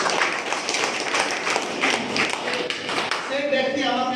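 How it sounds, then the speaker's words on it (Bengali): Audience applause at a business success program event, a spread of clapping from a crowd lasting several seconds and heard beneath a speaker talking. "হাততালি দিয়ে"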